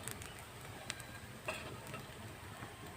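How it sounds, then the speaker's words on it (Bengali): Spiced bread pakora mixture frying in a pan, a quiet steady sizzle with a few faint ticks and clicks, no talking. "দিয়ে আমি একটু ভালো করে ভেজে নেব"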